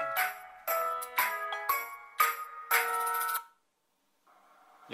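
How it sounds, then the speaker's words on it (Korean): A phone rings in a series of bright repeating electronic tones, clear and fairly close, before stopping and leaving a short silence and faint hum. "마침내 A씨로부터 전화가 왔습니다."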